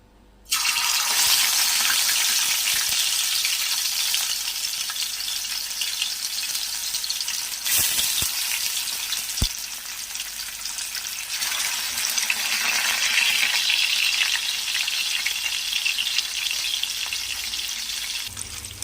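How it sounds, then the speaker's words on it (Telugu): Fish pieces hit hot oil in a pan and burst into a loud, steady hissing sizzle that continues close up for the whole stretch, with a couple of sharp clinks partway through and no voices. "ఆయిల్ కూడా కాగిపోయింది ఇప్పుడు ఒక్కొక్క చేప ముక్కని మనము ఫ్రై చేసుకుందాం"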